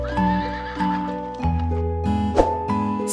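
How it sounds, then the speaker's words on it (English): A horse whinnies loudly, followed by steady clip-clopping of hooves and a second neigh, heard alone and close. "Horse."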